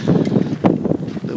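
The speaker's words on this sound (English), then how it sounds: "The wind is still going." Strong blizzard wind roars outdoors in the 2010 storm, a loud, steady rushing with gusty swells and buffeting against the microphone.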